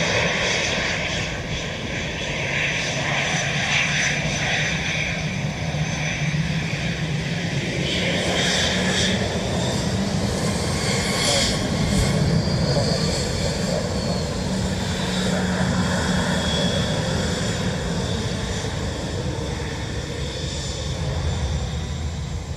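Steady, loud roar of a Ryanair airliner's engines at Dublin Airport, sustained throughout with a broad rushing drone, heard fairly close and without talk.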